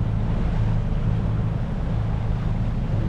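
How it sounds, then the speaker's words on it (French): Sailboat motoring under engine with all sails set, heading into a quartering sea swell at about six knots; a steady low engine drone blends with wind and water rush, continuous and close. "Là on fait du sinueux avec le moteur bien sûr, et puis les voiles, toutes les voiles dehors."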